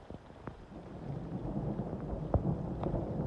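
A low, distant rumble of thunder builds gradually beneath steady rain, with a few sharp drips and taps close by.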